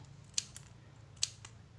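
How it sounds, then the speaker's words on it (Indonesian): Scissors cut through thin paper in two sharp, close snips about a second apart, with nothing else but a low room hum. "Dengan seperti ini ia tinggal menggunting saja seperti ini."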